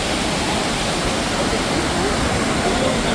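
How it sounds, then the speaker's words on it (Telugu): Honnavara falls, a waterfall with a man-made look, roars as a loud, dense, continuous rush of falling water heard up close and unbroken throughout. "మ్యాన్ మేడ్ వాటర్ ఫాల్స్లా ఉన్నాయి ఇవి"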